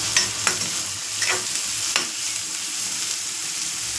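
Sizzling oil in a pan for a dosakaya (cucumber) curry, a steady hiss with a few sharp stirring scrapes and pops early on, close and moderately loud with no voices.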